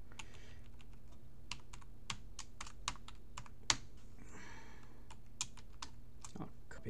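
Quick typing on a computer keyboard, a close, steady stream of crisp key clicks with one louder keystroke and a short burst of rapid tapping midway, over a quiet room hum and no voices.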